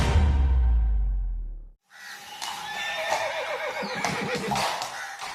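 Horses of the President's Bodyguard of India: a loud tonal note fades out, then a horse neighs and whinnies close by with scattered hoof clops and swishes.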